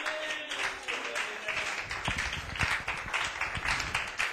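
A church congregation claps together in steady, rhythmic applause, many hands close and fairly loud, continuing throughout without speech.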